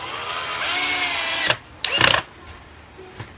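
A power drill whines steadily for about a second and a half, close up, driving into a pole, then cuts off, followed by a few short sharp clatters and a brief burst.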